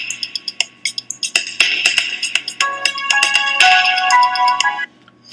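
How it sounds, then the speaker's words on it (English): Podcast intro music plays back in Audacity as a bright, chiming melody of plucked, bell-like notes, starting with rapid staccato hits and building into sustained tones before cutting off. "If I listen to this file, I've got my intro music."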